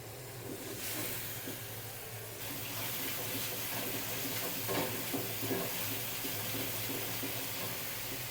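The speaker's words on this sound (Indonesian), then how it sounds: "Kita tumis lagi pakai minyak goreng." Spicy snack ingredients sautéing in frying oil as the water cooks off, giving a steady, close broadband sizzle and hiss that runs throughout, with a few louder crackles and spatters and no talking.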